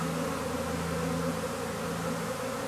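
Honeybees swarm around a beehive, making a dense, continuous buzzing hum that stays loud and close throughout with no talk.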